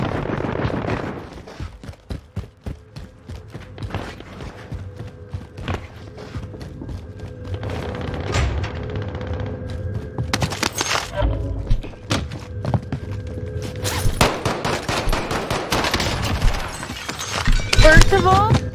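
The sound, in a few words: gunfire in Warzone video game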